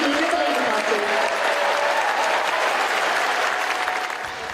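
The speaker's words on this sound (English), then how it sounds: "Basking in the applause, setting out the agenda." A large crowd at a Labour Party conference applauds, with sustained loud clapping filling the hall and fading slightly at the end.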